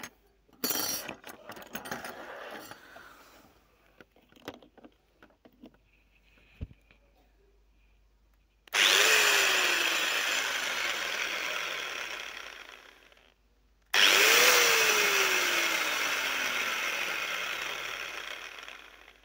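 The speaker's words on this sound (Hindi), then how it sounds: "अब जो है हम इससे ड्रिलिंग कर सकते हैं और वो भी काफ़ी अच्छे तरीके से" An angle grinder converted into a drill spins up twice for long, steady whirring runs. The motor pitch sweeps down as each run winds on, and scattered clicks and handling knocks come before the first run.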